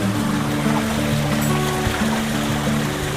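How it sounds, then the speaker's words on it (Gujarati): A river flowing down from Girnar at Jatashankar Mahadev near Junagadh, rushing water giving a steady, dense broadband roar with low rumble, close and continuous, no talk. "જો મિત્રો આ જટાશંકર મહાદેવની નદી છે"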